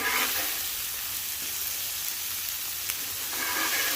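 Ground beef burger patties sizzling on a flat-top griddle, a steady close frying hiss with a faint scrape or two, continuous throughout without talk.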